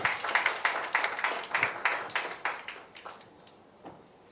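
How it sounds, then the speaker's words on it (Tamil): Audience applause welcoming a guest at a music video promo launch event, a burst of many hands clapping close and lively that gradually thins and fades over a few seconds. "ஒரு பலத்த கைத்தட்டல் கொடுத்து சார் வந்து வெல்கம் பண்ணிடலாம்"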